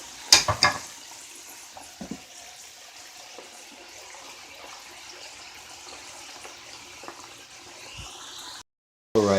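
Potatoes frying in olive oil in a pan while being stirred, a faint continuous sizzle with a few louder scraping knocks of the utensil early on and near the end.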